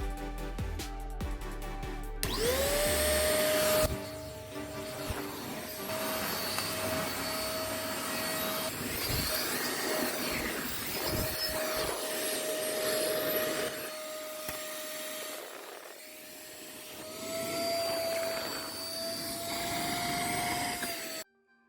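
A Xiaomi Deerma DX115C vacuum cleaner starts up with a rising whine and keeps running with a steady motor tone, the suction noise shifting as it moves over surfaces before switching off.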